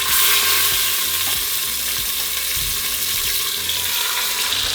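Meat browning in an Instant Pot on the saute setting for birria, a loud, even sizzle and crackle that runs throughout, with faint low thumps underneath and no talking.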